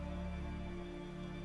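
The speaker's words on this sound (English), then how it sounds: "There's no point standing here in the rain." Rain falls steadily and evenly in The Witcher 3: Wild Hunt, with a constant soft patter and a low droning ambience underneath.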